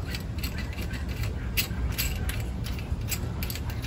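Ratchet clicks while a starter bolt is cranked down on a 351 Windsor engine, a steady close metallic ratcheting running throughout at moderate level.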